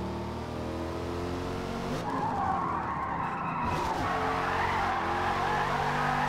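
Tires squeal continuously as a car drifts in Forza Motorsport, driven on a steering wheel. A steady engine drone runs underneath and the screech rises and intensifies midway. No one speaks.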